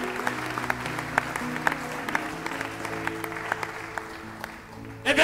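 A church congregation claps steadily during a sermon's worship moment, a dense, continuous round of applause with sharp individual claps standing out, ending in a louder swell.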